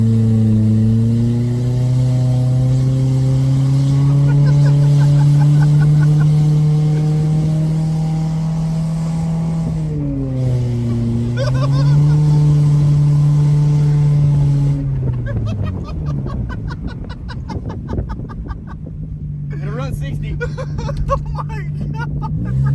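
A junkyard Nissan Altima, with only three lug nuts on each wheel, accelerates with its engine droning close and steady. The pitch climbs, dips at gear shifts, then turns rougher and more broken toward the end.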